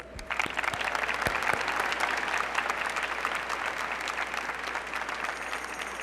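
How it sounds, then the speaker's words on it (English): An audience at a school district general assembly applauds the orchestra, a full steady round of clapping from many hands, sustained and fairly loud throughout with no speech. "We also need one more round of applause for our orchestra."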